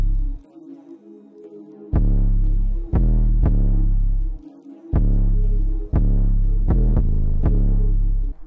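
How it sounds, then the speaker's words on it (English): An 808 bass drum sample in an FL Studio beat, deep booming sub-bass hits with long sustaining tails, played in a bouncy rhythmic pattern of about eight strikes, loud and alone. "I started with this 808,"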